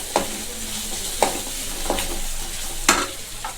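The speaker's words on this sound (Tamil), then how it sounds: "கொத்தமல்லி சேர்த்து ஒரு பெரட்டிட்டு நம்ம ஸ்டவ் ஆஃப் பண்ணிடலாம்" Pepper chicken with fresh coriander being stirred in a hot sizzling pan: steady frying hiss broken by four distinct scraping strokes of a spatula at uneven intervals, close and clear with no talking.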